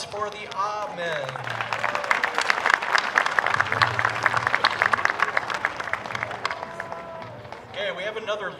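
Audience applause at a city band concert, Marshall, a broad steady wash of clapping from a crowd that swells and holds for several seconds, with voices and cheering mixed in before fading as a voice returns.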